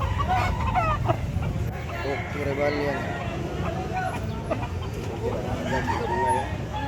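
Native chickens and roosters cluck and call in a busy market expo crowd, their bird sounds mixed under steady chatter and nearby talking throughout.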